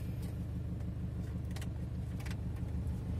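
A 2014 Nissan Navara NP200 Sport pickup's engine runs with a steady, low idling hum throughout, with a couple of faint light clicks and no speech.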